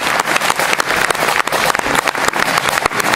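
A crowd applauds a Breton music group steadily, dense clapping from many hands filling the space at a constant, lively level.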